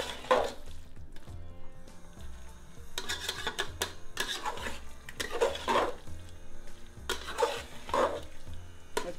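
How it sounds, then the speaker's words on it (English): Red lentils being stirred with meat and masala in a pot, the spoon scraping the bottom in several rhythmic bursts over a soft low hum and sizzle, close by with no talking. "so the lentil goes in with the meat and the masala. Give it a stir for a minute or so"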